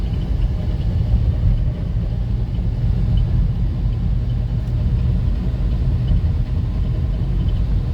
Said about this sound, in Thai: สายพานมันแตกแล้วมันมีเสียงฟาดอยู่แป๊บแป๊บแป๊บแป๊บอยู่ข้างใน